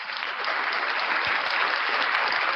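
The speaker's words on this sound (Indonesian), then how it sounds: "Oke, aplaus buat kita semua teman-teman." Applause from participants in an online class, a steady, even wash of clapping from many hands that holds at moderate volume throughout without a break.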